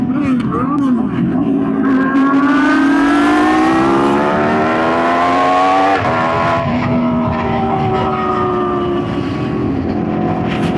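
Pininfarina hypercars pass on a city street, loud engines rising and falling in pitch as they accelerate by, close to the listener, with several overlapping passes and crowd voices underneath.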